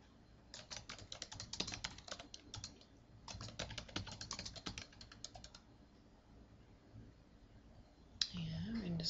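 Computer keyboard typing while filling in a Google Forms quiz, with rapid bursts of close key clicks and tab presses separated by short pauses, ending with a brief voice.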